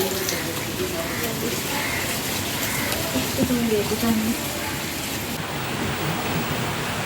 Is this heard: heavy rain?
yes